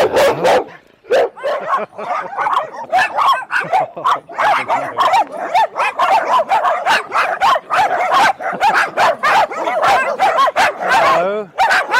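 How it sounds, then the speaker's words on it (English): A small black dog in a kennel enclosure barks repeatedly in sharp, loud yips with whimpering notes, close by, while a person talks over it. "Little dog, little black dog."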